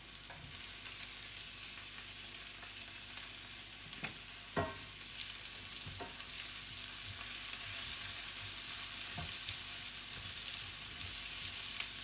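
Peppers frying in a pan for cheesesteak sandwiches make a soft, continuous sizzle. Scattered light clicks and taps of stirring are heard throughout, fairly quiet, with no talking.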